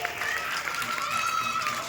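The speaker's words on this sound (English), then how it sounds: "Everyone claps." Applause from an audience at a school Republic Day celebration, a steady wash of hand clapping lasting the whole moment, with a voice over it and no clear break.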